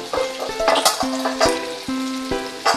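Pork binagoongan sizzles in a pan as fried eggplant goes in, a steady crackle broken by several sharp clinks and knocks from a utensil against the pan.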